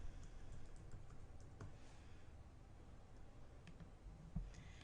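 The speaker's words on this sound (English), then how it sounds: "Type in your URL." Fingers type on a computer keyboard while entering a web address, with soft, quiet scattered key clicks over a steady low background hum and no talking.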